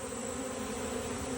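A honeybee swarm buzzes, bees fanning at close range in a dense, steady drone that holds evenly and loudly throughout a brief moment with no voices.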